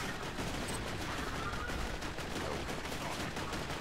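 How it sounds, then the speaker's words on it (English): A grenade-firing machine gun in the shooter game Borderlands 2 sounds as a steady rapid stream of muffled shots and blasts at moderate level, with no talk over it. "No, it's a machine gun."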